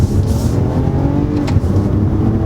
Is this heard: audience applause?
no